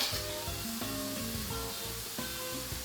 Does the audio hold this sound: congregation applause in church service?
no